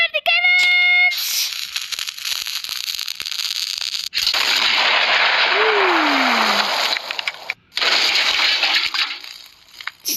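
Firework cannons firing in the Fireworks Mania video game, loud crackling bursts and a sustained hissing roar of explosions, with a descending whistle partway through and brief gaps of near silence.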